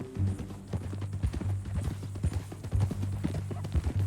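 Horse hooves clip-clop in a steady walking rhythm in Red Dead Redemption 2, close and fairly loud over a low ambient hum and rustle, with a faint snort or whinny.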